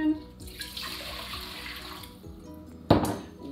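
Water poured from a tap or pitcher into a pot for three cups of oatmeal water, a steady close splashing stream with a brief louder clatter near the end.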